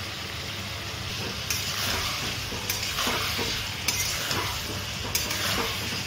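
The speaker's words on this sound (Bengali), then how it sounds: "এখন এটাকেও সুন্দর করে মাংসের সাথে মিশিয়ে ফ্রাই করা হবে।" Potato pieces frying together with chicken for gravy chicken sizzle steadily in a pan, with a few louder stirring scrapes every second or so over a constant crackling hiss.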